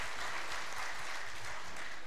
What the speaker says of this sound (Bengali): এখানে অনেক ছোট্ট সোনামণি যারা নেচেছে তাদের জন্য একটা জোরে করতালি